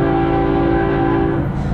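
The horn of a CSX Q166 freight train, trailed by a Canadian Pacific SD70ACU, blares loud and close in one long sustained blast over the rumble of the passing train.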